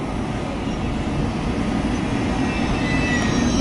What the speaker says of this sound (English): so he's pulling off, so we'll just hold off for a minute and we'll watch this fantastic train, the beautiful things, pull out through that bridge